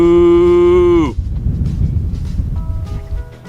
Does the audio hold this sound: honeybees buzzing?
no